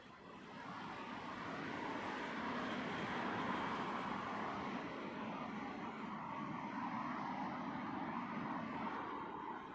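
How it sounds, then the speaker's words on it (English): An Airbus A320neo from Stavanger arrives over the threshold of runway 27L at Heathrow, its engine roar swelling quickly, then holding as a loud, steady, broadband rumble with no talk. "Next arrival then, another Scandinavian, this one in from Stavanger, A320 Neo."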